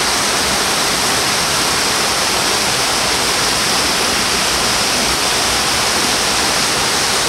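The Conway River runs as a mountain stream near its headwaters, giving a steady, dense rush of flowing water that fills the scene evenly with no other sounds.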